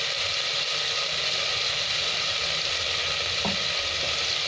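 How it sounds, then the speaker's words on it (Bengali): Chili powder, cumin powder and salt frying in a pan for a potato curry, giving a steady, close hiss and sizzle that holds evenly throughout without any voices. "এক 2 মিনিট ভালো করে একটু ভেজে নেবো এটা।"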